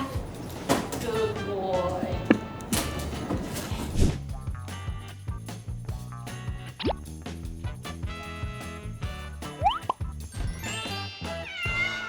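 Hairless Sphynx cats meow several times, some close and loud, mixed with clinks, drips and background voices and music-like tonal sounds.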